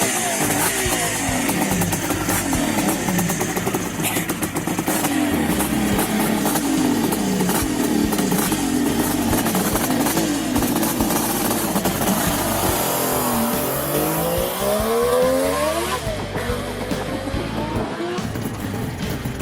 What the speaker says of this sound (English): ferocious roar characteristic of two-stroke engines echoed through the streets